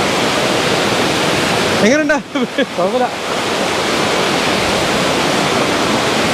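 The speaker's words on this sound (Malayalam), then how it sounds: "നല്ല ശക്തമായ ഒഴുക്കാണ്" A strong rain-swollen stream at Melukavu Mechal rushes in a loud, steady roar throughout, nearby and unbroken, while someone briefly speaks over it midway.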